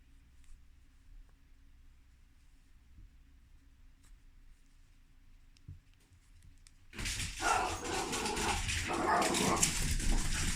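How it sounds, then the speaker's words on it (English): Several dogs bark loudly and continuously near the microphone in a home, breaking in after a long quiet stretch of faint crochet handling sounds. "My crazy dogs, sorry about that."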